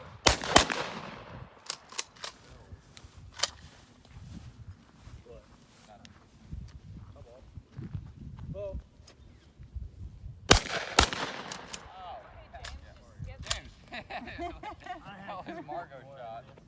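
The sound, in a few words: gunshots at target shooting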